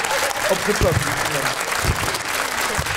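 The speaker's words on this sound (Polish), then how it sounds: "Wielkie brawa! Jeszcze większe!" Warm applause from a crowd at the Pol'and'Rock festival, steady throughout, while people talk close over it and a few low thumps break through.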